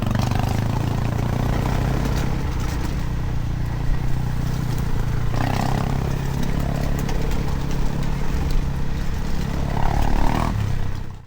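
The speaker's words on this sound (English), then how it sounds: "Here you see me riding behind a Honda CRF 250 rider with an aftermarket exhaust." Honda CRF 250 dirt bike fitted with an aftermarket exhaust, heard while riding behind it, a loud continuous engine drone with shifting throttle and wind rush throughout.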